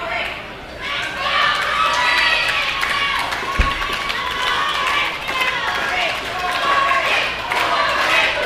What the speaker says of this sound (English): a rowdy crowd here in Cornelia for this opening contest